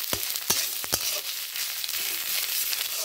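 Cauliflower leaf paste, ground without water, fries in oil with a dense, steady crackling sizzle, broken early on by a few sharp knocks of a utensil against the pan.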